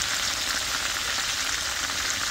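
Chicken breast coated in egg and cornstarch sizzles steadily in hot oil, a loud, dense, continuous crackle that holds even throughout with no voices over it.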